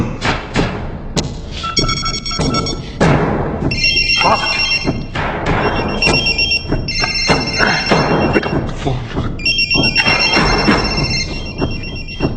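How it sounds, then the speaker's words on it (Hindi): A telephone rings in repeated bursts of bright trilling bells, loud and close, mixed with thumps and bustling movement. "Pick up the phone."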